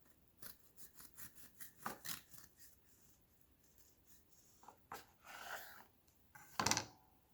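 A knife saws into a loaf of homemade banana bread, a series of soft, close rasping strokes in an uneven rhythm, ending with a louder crunch and rustle.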